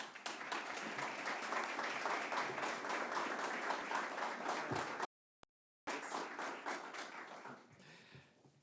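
An audience applauds to welcome the Monroe County Executive at a workforce center opening, steady dense clapping that cuts out abruptly for a moment, returns, then thins and fades.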